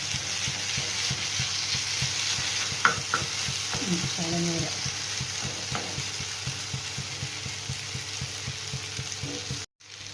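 A drumstick curry fries in a pan while being stirred in small repeated strokes, producing a steady sizzle with a regular scraping rhythm up close. The sound drops out abruptly near the end.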